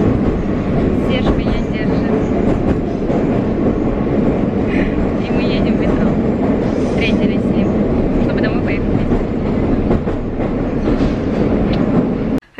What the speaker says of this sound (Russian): И мы едем в метро.